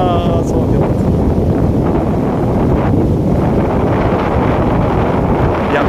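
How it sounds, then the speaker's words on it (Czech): Strong, cold autumn wind buffets the microphone beside a fishpond during a pond harvest, a constant loud roar of gusts with no break. "A je tu docela teda zima a vítr a studený vítr fouká"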